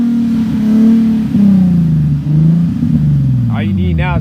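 Nissan 370Z fitted with an ISR single-exit exhaust, heard as a loud, close, sustained engine drone that rises and falls through a few revs, with a voice speaking briefly near the end.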